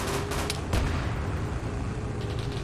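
A tank gun fires in the Ace Tanker game, with heavy booming blasts over a dense rumble of battle noise. Several sharp reports land close together early on, then the roar continues.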